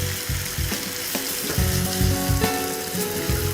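Tulsi paneer sizzling on a grill, a loud close crackle and hiss with intermittent bursts of spitting, no voices.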